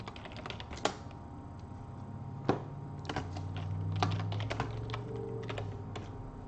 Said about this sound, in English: It's a Tron keyboard made by Razer.